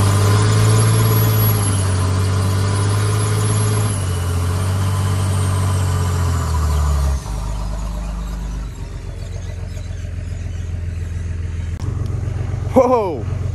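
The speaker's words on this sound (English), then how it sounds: "we're gonna spin up these tires" A diesel King Ranch pickup with a 5.9 Cummins engine roars loudly on dirt as its tires spin, a steady heavy drone that shifts and drops partway through, with a person talking over the engine noise.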